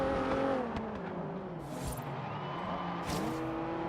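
Car engine in the racing game Forza Horizon throttling and revving, a steady close engine drone with pitch shifting up and down and brief tire or whoosh accents.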